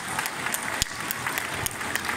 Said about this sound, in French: Donc merci de les applaudir et de leur redire par ce biais toute notre reconnaissance